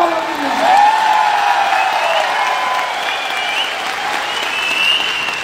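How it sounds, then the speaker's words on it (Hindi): A large indoor stadium audience at a seminar claps loudly and continuously, with a few whoops and cheers rising above the sustained applause and some faint tonal sound mixed in. "एक बार तालियां जोरदार।"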